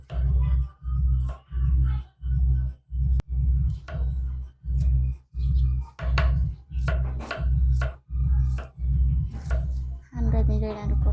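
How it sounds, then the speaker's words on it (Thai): Beef being chopped into small pieces for Lao laab, knife strikes landing on a board in a steady, even rhythm of about one per second, close and loud, with occasional speech in between. "หั่นให้เป็นชิ้นน้อยๆนะทุกคน"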